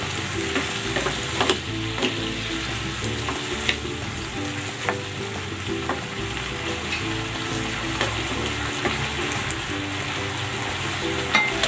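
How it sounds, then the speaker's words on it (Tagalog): Squid sautéed with oyster sauce and chili sizzles steadily in a hot pan, with occasional stirring scrapes and clinks over a dense, continuous frying hiss; no talking. "Ayan, luto na itong ating ginisang pusit with oyster sauce."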